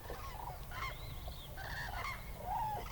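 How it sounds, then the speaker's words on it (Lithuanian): Cranes calling at dusk while settling for the night, several bugling, trumpeting calls overlapping at a moderate distance over a low ambient rumble. "Gervės vis dar nerimsta, skraido, renkasi patogiausią vietą nakvyniai."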